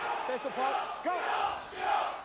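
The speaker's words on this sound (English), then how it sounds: "This crowd getting behind their side again. Healthy crowd at the Huntington Stadium." A rugby league crowd at Huntington Stadium during a York versus Oldham match, with a blend of voices and several distinct shouts rising over the steady murmur of the stands.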